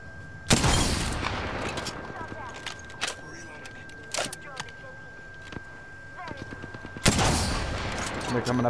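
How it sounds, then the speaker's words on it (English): Gunfire in the Apex Legends video game: sharp, loud bursts of shots hit at intervals, with lighter rapid pops between them, while a voice talks in the background. "Gunshot fired."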